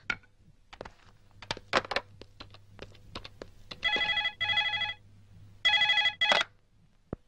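A telephone rings in a police station, with a few short electronic bursts and two longer double rings amid scattered clicks and knocks. No one speaks.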